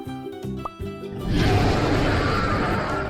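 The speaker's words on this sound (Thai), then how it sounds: "42 นี่เป็นเสียงคำรามนะทุกคนนะ 42 เป็นเสียงคำราม" A loud, harsh synthetic roar effect in the game Mini World bursts in after a brief stuttering tonal intro and sustains, dense and rumbling, for a few seconds.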